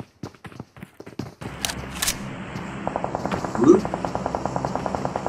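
Rapid automatic gunfire in PUBG Mobile rattles in a steady burst after scattered sharp shots, with a voice briefly speaking over the game sounds.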